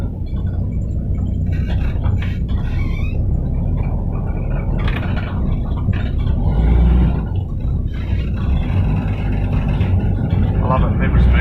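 A Landcruiser's engine rumbles steadily and loudly throughout while driving, a low continuous drone with road noise, and people talk over it.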